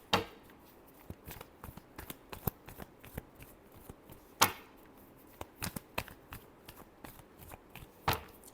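A tarot deck is shuffled by hand at close range, crisp riffling snaps and taps coming in irregular bursts with quiet gaps between them.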